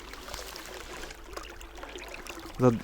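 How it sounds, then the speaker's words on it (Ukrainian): Water trickling along small ditches and channels into a river in winter: a faint, steady outdoor trickle and burble, quiet and continuous, with a brief louder knock near the end. "І от такими канавками, рівчаками це все біжить, стікає в річку."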